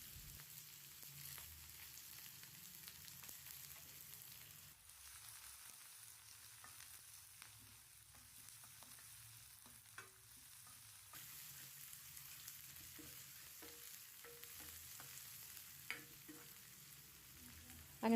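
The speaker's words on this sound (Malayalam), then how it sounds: "ഇനി ഇതിന് നന്നായിട്ടൊന്ന് മൂപ്പിച്ചെടുക്കാം" Chopped garlic and finely cut small onions fry in a pan for a drumstick leaf curry, a soft, steady sizzle with occasional faint clicks of stirring, quiet and continuous with no talk.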